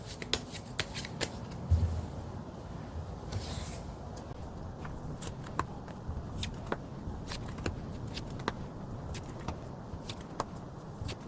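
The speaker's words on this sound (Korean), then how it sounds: "카드를 한번 뽑아보도록 할게요" Tarot cards shuffled and drawn by hand, with soft riffling and sharp flicking snaps spread across the stretch, close but quiet, no talking.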